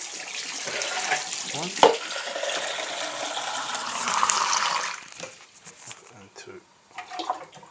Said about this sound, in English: And you add more in, and you can fill it up with water.